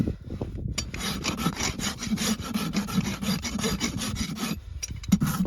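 Rasp filing a horse's hoof during trimming, a close, loud, steady rhythm of rough scraping strokes that continues without pause for the whole stretch, with no talking.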